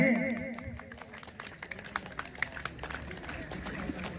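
Guests clap at an Indian wedding in Bareilly as the varmala garlands are exchanged, sharp uneven claps scattered over steady crowd chatter and background noise.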